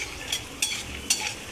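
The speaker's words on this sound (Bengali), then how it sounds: "একটু নাড়াচাড়া করলে পরেই কিন্তু বাদামগুলো ফটফট করে ফাটবে" Peanuts frying in a pan for a Bengali chire breakfast dish, a low steady sizzle broken by three sharp crackles or scrapes as they are stirred, no voices.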